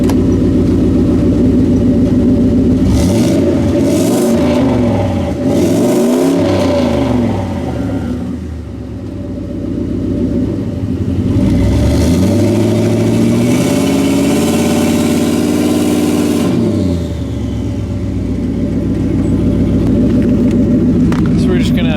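A turbocharged Ford Crown Victoria engine, its turbo failing to spool, is free-revved. Loud, close revs rise and fall several times, separated by rumbling idle in between.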